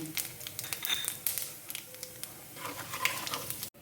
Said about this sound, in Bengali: এবার ওই আলু ভাজার তেলেতেই দুটো তেজপাতা, দুটো শুকনো লঙ্কা আর 1 টিস্পুন গোটা জিরে দিয়ে দিলাম।